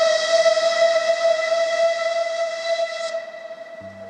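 A Bulleid Light Pacific steam locomotive whistle gives one loud, steady, bright tone with strong harmonics, held for about three seconds before it cuts off and fades, heard alone.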